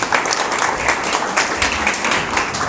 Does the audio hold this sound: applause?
yes